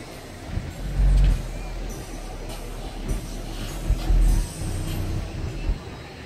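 Traffic passing on a city street, deep low rumbles swelling and fading as cars go by, with a few heavier thumps and hiss from larger vehicles at moderate distance.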